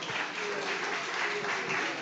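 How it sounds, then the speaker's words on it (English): Audience applause at a live cooking competition, a steady dense wash of clapping filling the whole stretch at moderate distance with no break, and no talk over it. "Give her a big round of applause"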